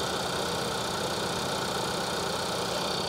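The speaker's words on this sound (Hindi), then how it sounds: "सबसे पहले तो आइडियल पे इस इंजन की आवाज़ सुन लो।" Skoda Slavia sedan's 1.5-litre engine idling with the air conditioning running, heard close and loud as a steady, dense hum and rattle that holds level throughout, with no talking.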